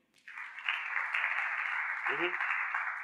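Audience applause at a church sermon, a steady wash of clapping that starts after a brief pause and holds loud and even for about three seconds, with a faint voice briefly cutting in near the end.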